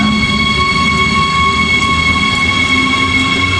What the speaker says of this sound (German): Aber wir sind hier ja im Bahnhof.